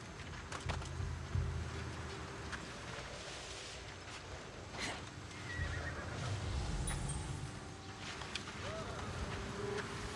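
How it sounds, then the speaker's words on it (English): A horse neighs and whinnies in Assassin's Creed Odyssey, with clip-clopping hooves and outdoor ambience, while someone talks over the game sounds. "Damn horse. Ruining my stealth."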